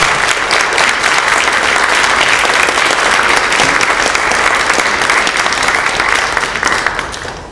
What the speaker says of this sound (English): I'd like to give a round of applause for all of the candidates.